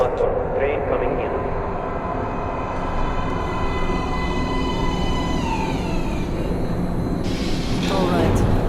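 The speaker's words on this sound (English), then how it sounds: "Please step away from the edge of the platform. Train coming in." In the video game Metro: Last Light, a subway train rolls into an underground platform with a sustained rumble and squealing metallic tones, while a voice speaks over it.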